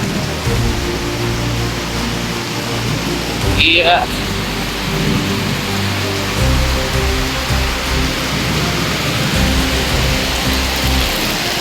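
Heavy typhoon rain pours steadily on a hut with a low thunder rumbling undertone, and a person briefly speaks a single word partway through.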